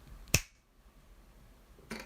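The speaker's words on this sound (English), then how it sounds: "I'm about to snap my fingers, and everything is going to reappear the way it was." A single sharp finger snap sounds close up near the start, followed by quiet room tone and a fainter click near the end; nobody speaks.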